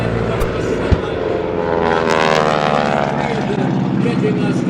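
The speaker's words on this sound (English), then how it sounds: "As you see these planes in front of you" Vintage warplanes from a Tora Tora Tora re-enactment at the 2017 Joint Base Andrews air show, a loud, steady propeller engine drone sweeping past with a pitch shift, with crowd chatter and talk underneath.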